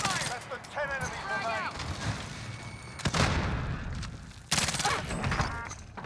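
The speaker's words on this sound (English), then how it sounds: "Precision airstrike inbound." Precision airstrike in Call of Duty Warzone: two heavy explosive booms land a second or so apart, loud and broadband, amid scattered gunfire, with a voice talking early on.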